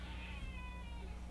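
A domestic cat meows indoors, one drawn-out, wavering meow heard close and clear over a low background hum.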